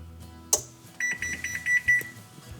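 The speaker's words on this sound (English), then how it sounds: "I'm going to set the timer for 50 minutes." Oven timer being set on a kitchen oven while baking gluten-free bread: a sharp click, then a quick series of short electronic beeps with two slightly longer tones, close and clear, no talk.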